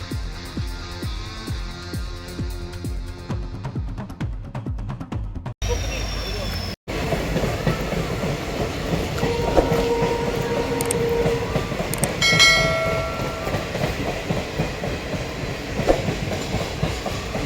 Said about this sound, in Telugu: చూడండి ట్రైన్ అయితే ఎలా ఉన్నాయో